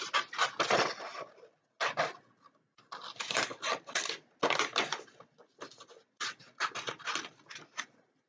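Scissors snip by hand through a printed paper image, in bursts of crisp, close cutting separated by short pauses, with no one speaking.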